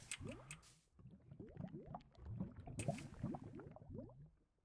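Water pours into a machine from the Embers mod in Minecraft, a bubbly, gurgling liquid rush in short repeated bursts, close and fairly soft, with no voices.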